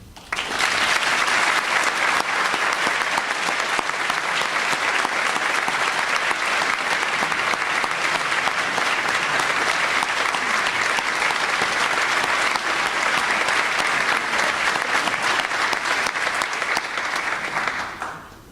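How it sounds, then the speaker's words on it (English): Banquet audience at an alumni awards dinner giving a long, sustained round of applause, dense and loud, holding steady for the full stretch before tapering off at the end. "Please join me in one more round of applause for Linda and for John."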